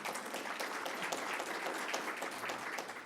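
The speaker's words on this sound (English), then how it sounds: "You may applaud." An audience applauding at a Queensland small business week event, steady dense clapping throughout, moderately distant and even, with no speech over it.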